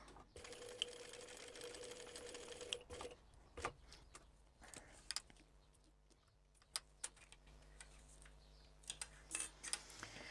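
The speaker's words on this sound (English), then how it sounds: "I'm just going to sew down the end of that again over the stitching I've just done" A sewing machine stitches back over the end of an earlier seam on an Ember crossbody bag, a soft steady whir broken by small mechanical clicks and taps, with no voices.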